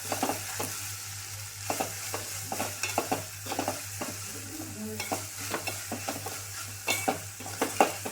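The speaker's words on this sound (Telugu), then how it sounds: "కొంచెం కారం వేసుకుందాం ఎక్కువ ఎక్కువైతే అచ్చు తిన్నది కారం బాగా కలుపుకోవాలి" Alchanthakaya curry in a pan is stirred after chili powder goes in, with a soft continuous sizzle under rapid, repeated spoon scrapes and clinks against the pan, close and moderately quiet.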